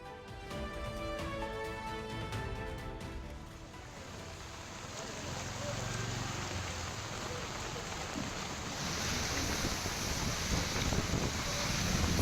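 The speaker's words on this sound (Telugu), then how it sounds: "ఉరుములు, మెరుపులతో కూడిన భారీ వర్షం కురిసింది" Heavy rain falls in Telangana, a steady, dense hiss of rain and wind that stays even and continuous across the clip, with no distinct thunder claps standing out.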